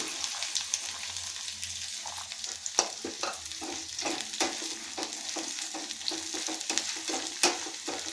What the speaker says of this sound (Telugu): ఆయిల్లో బెండకాయ ముక్కలను వేసుకొని కొన్ని వేయించుకుంటున్నానండి